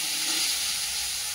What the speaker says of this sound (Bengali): মাছটা ভাজা চাপিয়ে দিয়েছি।